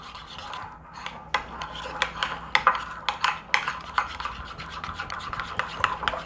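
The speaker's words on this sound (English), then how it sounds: "I'm going to mix this all up in here." Spoon scraping and clinking in a bowl while starch is mixed into a beef mixture for beef ramen, a steady run of close scrapes and knocks with no talk.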